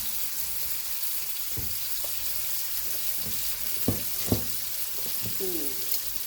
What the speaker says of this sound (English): this is a pound of jumbo shrimp. I cut them in half. They were huge. Go ahead and get them going.